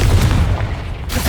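Confringo explosive spell going off in Hogwarts Legacy combat: a loud, deep boom with a heavy low rumble, close and alone, trailing into a brief burst.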